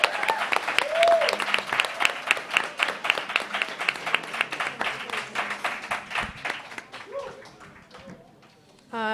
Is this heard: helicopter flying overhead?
no